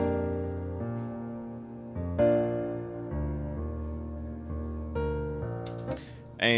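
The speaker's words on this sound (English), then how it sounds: "Typically, when you make a piano part, it'll sound like this." Piano part sequenced in Presonus Studio One, a series of block chords changing every second or so in an even, mechanical rhythm, clear and up front with no speech.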